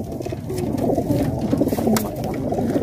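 Pigeons kept at a loft in Multan coo in a soft, throaty, continuous murmur, several birds overlapping nearby, with faint rustling and a few brief higher chirps above.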